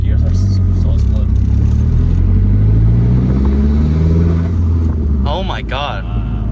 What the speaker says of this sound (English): That blow-off sound is nice.